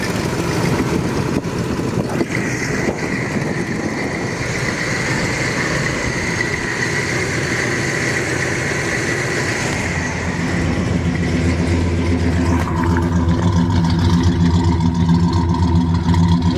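A 1967 Pontiac GTO's deep V8 engine idles with a heavy, loping rumble, then revs up and settles back, loud and close throughout.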